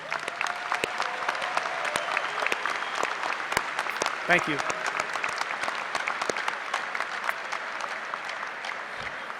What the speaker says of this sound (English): Please recognize these individuals with a round of applause.